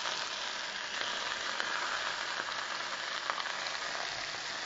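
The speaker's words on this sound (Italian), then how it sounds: "io mi friggio bene, la mia cima di rapa, copro la salsiccia" Turnip tops (cime di rapa) frying with sausage in a pan give a steady, dense close-up sizzle with crackling pops throughout, no voices.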